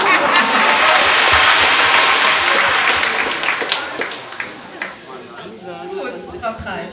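Warm audience applause in a German event hall during a mock chancellor debate, strong at first and thinning out with scattered claps and murmuring voices.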